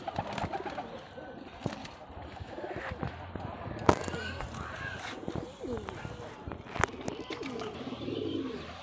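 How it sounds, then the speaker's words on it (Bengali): Pigeons cooing softly in a loft, low rolling coos repeating among chirps and light fluttering, with someone talking over them. "এই আর এক জোড়া কবুতর দেখাচ্ছি আপনাদেরকে"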